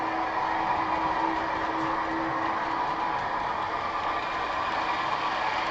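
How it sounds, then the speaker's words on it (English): A model train, a Grand Canyon train on a layout, runs by with a steady, even rumble and hum that holds at moderate level throughout, with no talk. "Always like watching the trains running by."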